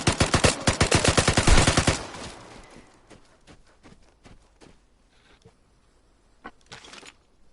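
Video game gunfire: a rapid loud burst of automatic shots for about two seconds, then scattered quieter single shots and faint footsteps, with a short late flurry.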